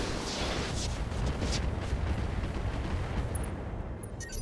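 A Wolverine mech unloading all its weapons at once in RogueTech, a dense, continuous roar of cannon and missile fire with rumbling blasts that stays loud throughout.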